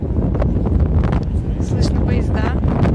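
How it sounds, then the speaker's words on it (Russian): Strong gusting wind buffets the microphone outside a football stadium in Volgograd, a continuous loud low roar filling the whole stretch with no pauses. "здесь очень сильный ветер"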